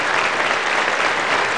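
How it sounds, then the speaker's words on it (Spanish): Dense, loud applause from a large audience at a university scholarship award ceremony, a continuous wash of clapping hands with no gaps, close and filling the space. "un fuerte aplauso a ellas"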